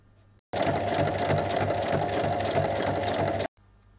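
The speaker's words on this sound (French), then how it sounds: "c'est là qu'il faut commencer à piquer, et un repère à 1 cm à la fin où je vais arrêter de piquer" Sewing machine stitching a lined fabric bag, a steady close mechanical whir that starts abruptly, runs continuously for about three seconds, then stops, with no voices.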